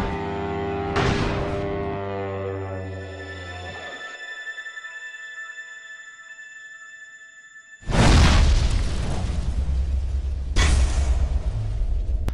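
Tank cannon blasts and explosions in the online game World of Tanks: after a tonal musical passage and a quiet gap, two loud, heavy booming bursts land a few seconds apart, each with a long rumbling tail.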